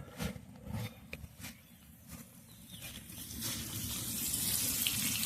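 Irrigation water gushes from a pipe joint in a village vegetable field, a steady close rushing flow that swells louder and fuller toward the end, with a few knocks early on and no talk.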